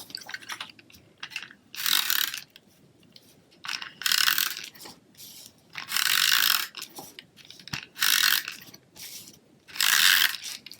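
A Stampin' Up Snail adhesive runner being rolled across paper, making repeated short scratchy, clicking strokes at close range with brief quiet gaps between passes.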